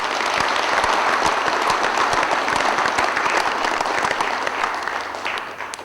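Audience applauding the newly inaugurated president of the Korean Ssireum Association at his inauguration ceremony, steady dense clapping throughout that tapers slightly near the end.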